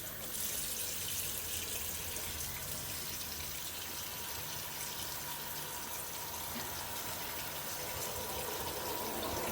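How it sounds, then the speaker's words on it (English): Steady running water from a tap while dyed wool yarn is rinsed, a constant soft gushing wash with no pauses, fairly faint and even throughout. "now we will fast forward for the yarn rinsing process"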